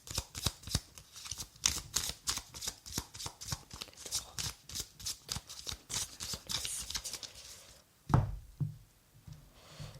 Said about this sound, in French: Et dans le passé, on va prendre 2 cartes quand même.